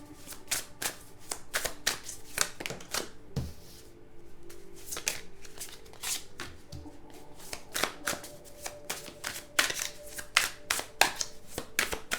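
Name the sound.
playing cards being handled and laid out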